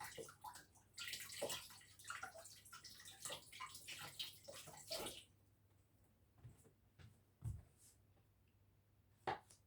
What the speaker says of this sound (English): I'm going to wash the mushrooms and slice those up nice and thin as well